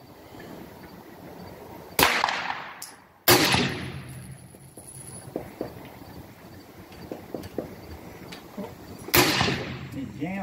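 Three loud, sharp AR rifle shots crack out at a shooting range, widely spaced with echoing decays, alongside quieter clatter and handling noises in between.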